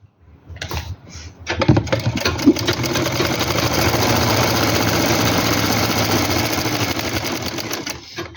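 A sewing machine stitches a seam on a simple suit, starting after a short pause and running at a fast, steady whirring rhythm for several seconds, loud and close with no talk over it.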